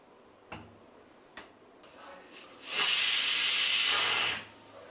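After a couple of sharp clicks, a loud hiss of steam bursts out of a pressure cooker cooking lentils and holds for a second or two before cutting off.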